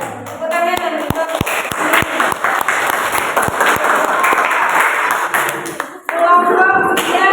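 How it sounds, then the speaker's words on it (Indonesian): Applause from an audience at a school junior high presentation session, a sustained wash of clapping with a few sharp individual claps standing out; a voice is heard at the start and again near the end. "tepuk tangan"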